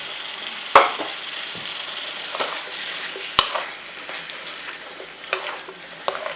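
Butter mushrooms fry in a pan with a steady, fairly loud sizzle up close. Sharp knocks of a utensil against the pan and stirring scrapes break in at intervals.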